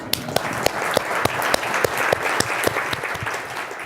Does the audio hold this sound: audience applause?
yes